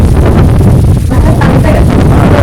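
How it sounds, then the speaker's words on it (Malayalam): Strong wind buffets the microphone in a constant loud roar, rumbling and gusting with no clear pauses. "നല്ല നല്ല കാറ്റുണ്ട്."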